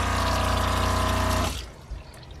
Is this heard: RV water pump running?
yes